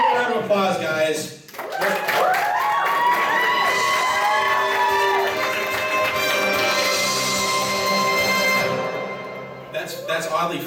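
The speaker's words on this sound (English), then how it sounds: "Give a round of applause, guys." Convention audience at an anime con game show applauding and cheering, a dense sustained wash of clapping and shouts lasting most of the clip before fading, with a host's voice briefly before and after.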